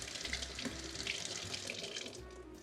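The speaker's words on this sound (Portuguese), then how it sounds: "Enxaguar muito bem" Passion fruit rinsed under a running tap, a steady close splash of water in a sink for the whole stretch, with no voice over it.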